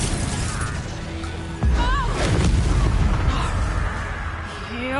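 A Confringo blast spell from Hogwarts Legacy erupts in a loud, booming burst partway through, with crashing, shattering debris and a spell effect trailing off over busy game ambience.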